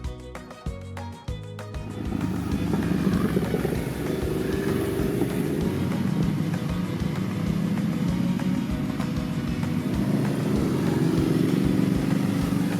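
A Ducati Multistrada motorcycle riding twisty roads through hilly farmland in Thailand, its engine a steady droning rumble under strong wind noise after a brief rougher opening.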